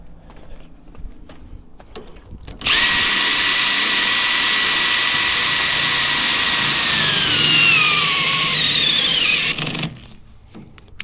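A Milwaukee cordless drill spins up abruptly to drive a trailer speed binder, holding a loud, high, steady motor whine that slowly drops in pitch as it strains under load, then cuts off after about seven seconds.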